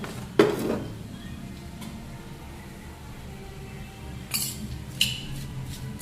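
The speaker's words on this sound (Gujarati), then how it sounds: "હવે બધું મિક્સ કરી દેવાનું" A spoon clinks and scrapes against a pot as cumin seeds, oil and potatoes are stirred together for a potato curry, giving a few sharp metallic knocks over quiet kitchen background.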